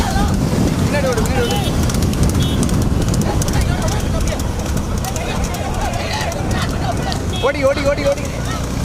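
A horse runs with clip-clopping hooves, heard under loud wind buffeting the microphone while people shout over the noise outdoors.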